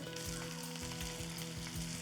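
Onion sizzling in hot oil for a tempering, a close, steady frying crackle with soft periodic thumps from stirring, with no talk over it.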